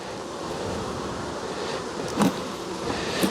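Honeybees droning steadily around a hive during a late-season colony check, a constant buzzing wash with a couple of louder passes of individual bees flying close by.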